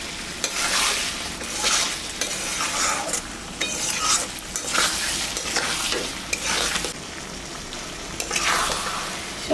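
Egg curry masala gravy is stirred in a pan, with rhythmic scraping swishes in bursts over a soft bubbling sizzle, close and fairly loud.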